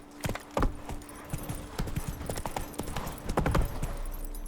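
Horse hooves clip-clop at a brisk trot in The Witcher 3 video game, a close, rhythmic run of hoof strikes with no pause.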